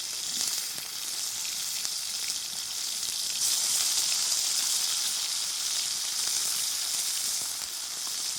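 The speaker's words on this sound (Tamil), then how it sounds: "மீன் வந்து நல்லா ஃப்ரை ஆகிட்டு இருக்குது" Lightly pre-fried fish refrying in hot oil, a steady, bright, hissing sizzle that holds evenly for several seconds, close by and alone without voices.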